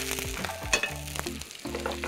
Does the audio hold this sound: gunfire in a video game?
no